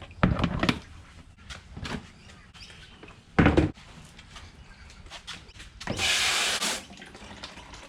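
Water trickles and splashes down through stacked containers with holes in their bottoms into a bucket, in irregular short gushes and drips, with one longer sustained pour near the end.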